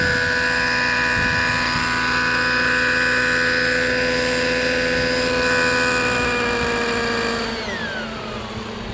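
A Trex 600 nitro RC helicopter comes in to land, its engine running rich with a loud, steady whine and rotor drone that holds, then drops in pitch and fades as it settles.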